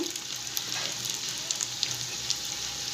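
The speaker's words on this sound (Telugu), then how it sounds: "ఇదైతే ఇదే కడాయిలో నెయ్యి ఉంది కదండి, ఇందులోనే వేయించుకుందాం దగ్గర పడేంత వరకు" Moong dal batter frying in ghee in a kadai, a steady close sizzle with faint crackles and soft stirring scrapes throughout, no voices.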